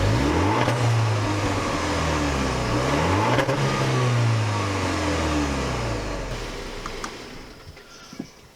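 A 2018 Jaguar F-Pace R-Sport SUV engine revs through a twin exhaust, surging loudly with rising and falling pitch, close by, then eases off and fades toward the end.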